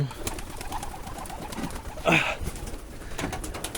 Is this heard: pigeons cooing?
yes